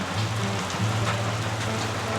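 Heavy monsoon rain pours down steadily at Murti in the Dooars, near a fast-flowing river, making a dense, even hiss with a faint low hum underneath.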